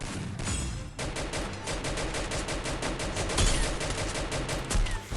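Rapid, continuous automatic gunfire in a shooter video game crackles loudly and without pause, a dense stream of shots from near start to finish.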